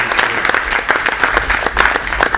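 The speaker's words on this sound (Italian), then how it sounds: "Quindi un applauso per Francesco" Audience applause at an Italian art talk on tactile images, a steady patter of many hands clapping throughout, fairly close and continuous with no speech over it.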